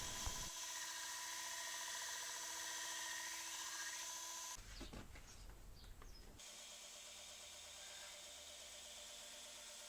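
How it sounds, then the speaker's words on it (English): A belt grinder grinds a wide bevel onto a vintage Japanese vest-Bowie knife blade, a steady loud whine with contact grinding that drops to rougher, noisier scraping midway before the even motor drone returns. "I'm going to be grinding a much wider bevel onto the blade"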